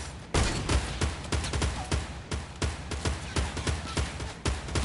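Rapid, loud gunfire from a Fortnite sniper shootout match, with sharp shots repeating in a steady, fairly even rhythm close up throughout.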